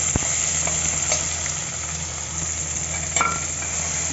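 Sliced onions frying in oil in a pan for veg biryani, a steady close sizzle with occasional scrapes and clicks of a spoon stirring, no talk.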